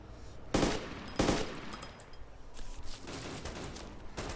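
Rapid gunfire in DayZ Epoch on the Namalsk map, sharp bursts of shots early on, then scattered quieter reports further off.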